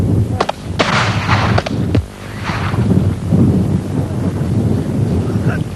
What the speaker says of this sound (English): the IRA has developed its own weaponry, like this homemade grenade launcher